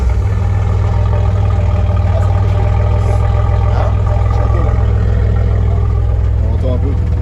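A Renault Clio fitted with an aftermarket exhaust line idles at close range, a steady low rumbling drone that holds even throughout, with faint voices in the background.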